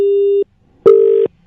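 Disconnected phone call tone: two loud, clean electronic beeps at a steady pitch, separated by a short silence, with the start of a third at the end.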